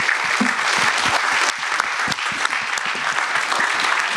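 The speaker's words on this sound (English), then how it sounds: "So just please give her a round of applause and thank her for her time." An audience at the close of a plenary session at the Louisiana Smart Growth Summit gives a steady round of applause, with individual claps standing out near the front and a full, even crowd sound behind them.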